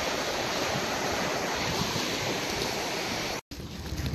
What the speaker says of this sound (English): Crossing over the 10 Mile River.